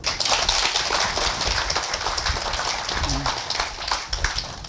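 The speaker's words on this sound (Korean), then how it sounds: "모든 분에게 박수" Sustained, dense applause fills a Buddhist dharma closing ceremony after a volunteer trip to Sri Lanka, steady and loud throughout with slight swells near the end.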